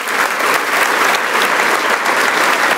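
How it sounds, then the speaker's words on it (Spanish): A church congregation claps together during a worship service, producing a dense, steady, fairly loud roar of applause that fills the whole moment with little speech over it. "Y dele un aplauso a Dios con todo su corazón."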